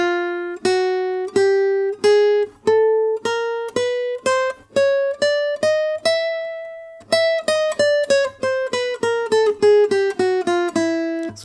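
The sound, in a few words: guitar spider walk finger exercise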